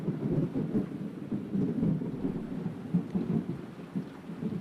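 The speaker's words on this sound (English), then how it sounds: "Sometimes I just need to watch thundering skies and muse about it." A video game thunderstorm from The House of Tesla, with steady heavy rain and low rolling thunder rumbling continuously throughout, with no voices over it.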